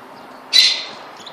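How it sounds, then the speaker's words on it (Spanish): A young bird gives one short, bright chirp while being fed by its mother, a single close call over quiet background. "ya iba la mamá, miren, a comer huevito y ahorita le da al pajarito"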